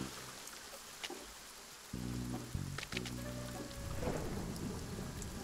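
Rain and rolling thunder in the Coromon video game, a steady hiss of rainfall with a louder low rumble of thunder building partway through, no talk.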